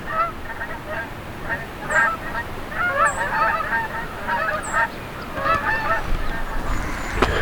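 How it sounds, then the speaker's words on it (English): A flock of geese honks repeatedly over steady road rumble, the calls rising and falling in a loose rhythm at moderate distance. "Geese."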